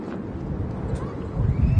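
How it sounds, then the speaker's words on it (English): Strong gusty wind at Manchester Airport, a steady broad roar that swells louder near the end, buffeting the microphone with no other distinct sounds on top. "the gusts still blowing strong"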